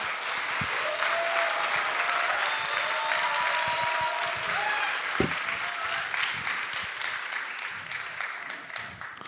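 A church congregation at a revival service gives sustained applause welcoming the senior pastor to the pulpit: a thick wash of many clapping hands that slowly fades, with a few brief tonal cheers rising above it early on.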